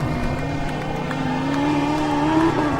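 A Formula Student single-cylinder race car engine drones steadily at the Formula Student Germany endurance finals. The loud, continuous buzzing note climbs slightly in pitch as the car runs close by.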